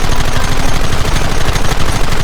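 Rapid, continuous gunfire from soldiers in the Western video game Red Dead Redemption, loud and dense with overlapping shots throughout.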